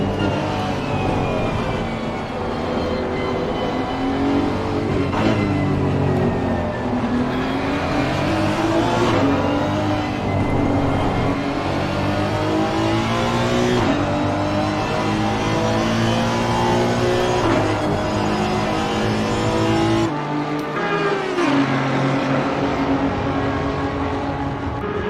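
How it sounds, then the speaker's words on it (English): Honda NSX race cars in a racing video game, engines droning and revving loudly and continuously with shifting pitch as several cars battle closely together. "Green not too far behind in the NSX."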